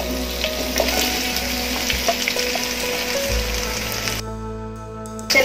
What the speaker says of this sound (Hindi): तेल गरम हो गया है, इसमें अब हम भिंडी को शैलो फ्राई कर लेंगे।